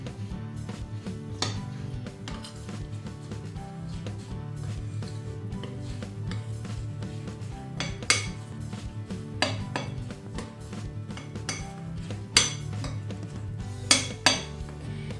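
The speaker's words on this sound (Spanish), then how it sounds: "Y mezclamos bien para que todo quede bien integrado" Toasted almonds folded into a chocolate and millet turrón mixture, with soft scraping, rubbing and occasional sharp clinks of utensil against the bowl or pot, steady and close with no talk.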